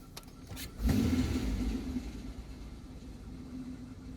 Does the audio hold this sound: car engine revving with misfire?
yes